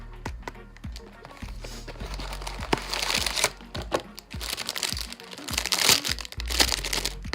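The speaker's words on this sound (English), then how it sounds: "So I'm just going to open the box" A BH Studio Pro brush set box being opened, with close crinkling and crunching of cardboard and plastic packaging in quick irregular bursts throughout.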